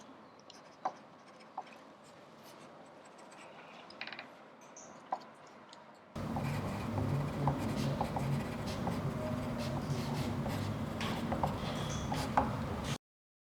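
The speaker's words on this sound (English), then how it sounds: "I'll give you this pencil. Okay. You can make notes if you wish to do so." A pencil writes notes on paper during a timed preparation period, with scratchy strokes and taps that are sparse at first and then become steady and continuous, close and fairly quiet.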